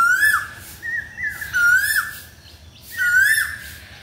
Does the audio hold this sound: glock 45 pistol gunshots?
no